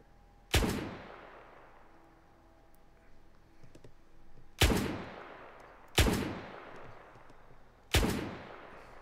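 A single-shot sniper rifle fitted with a drum magazine fires in VRChat: four loud, sharp cracks at irregular intervals, each followed by a long, fading reverberant tail, with no talking.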